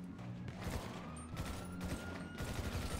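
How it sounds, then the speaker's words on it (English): Continuous bursts of gunfire in GTA 5, sounding like a fusillade of rapid shots that blend together over a steady background, fairly faint and with no voices. "I'm being shot at."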